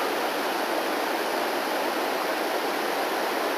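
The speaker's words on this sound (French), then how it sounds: "la grande rivière en bas, que vous entendez en bas" Steady rushing water from a large river below a forest in Zahamena, a constant broad roar with no breaks.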